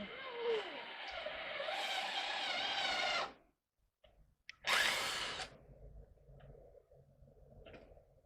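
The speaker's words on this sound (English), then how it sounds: "I'm going to go ahead and drill my hole." Power drill boring a hole through porch railing wood, a loud sustained whine with shifting pitch for about three seconds, a pause with small knocks, then a second short burst of drilling followed by a lower, quieter motor hum.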